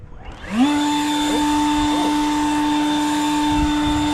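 A Ryobi leaf blower spins up and then runs at a steady, loud, droning whine, close by, with no talking.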